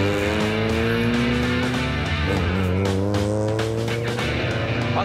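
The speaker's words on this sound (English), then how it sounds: "I could just listen to that engine sound all day." Ford Cortina GT with a brand new Harris Performance engine, driven hard: a loud, close engine roar with rising and falling harmonic pitch as it revs through gears, continuous throughout.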